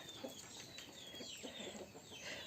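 Chickens on a perch call out faintly in a short burst of clucks and squawks, soft and somewhat distant against a low background hiss.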